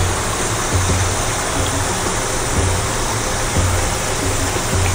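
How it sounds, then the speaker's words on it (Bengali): Baby corn deep-fries in hot oil over a high flame, producing a loud, dense, continuous bubbling hiss close up, steady throughout with no talking. "এটার মধ্যেই বাকিটা দিয়ে হাই ফ্লেমে ভেজে নেব।"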